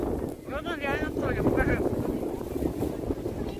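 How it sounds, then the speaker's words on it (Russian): Gusty wind buffets the microphone with a constant roar while a person talks over it. "такой ветрюган просто сейчас"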